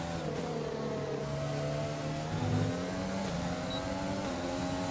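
An F1 race car in the F1 2020 video game whines past while overtaking, its engine note rising and shifting in layered harmonic tones at moderate volume, with no talk.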